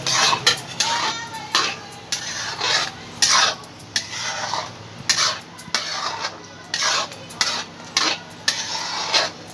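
Cooked palak paneer is served out of the pan onto a dish. A metal spoon scrapes and clinks against the pan in a string of short, close, uneven strokes, and no one talks.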